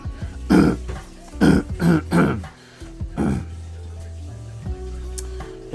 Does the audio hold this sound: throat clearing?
yes